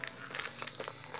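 Stiff plastic toy packaging around an LOL doll being pulled open, giving short faint crinkles and crackles in quick irregular bursts, close by with no speech.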